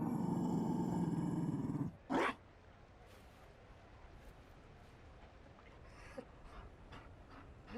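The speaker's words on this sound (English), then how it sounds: "You found a dog?" A Mabari war dog in Dragon Age Inquisition gives a deep, loud, sustained growling snarl, then one short huffing burst. Quiet ambient game sound follows with faint scattered noises.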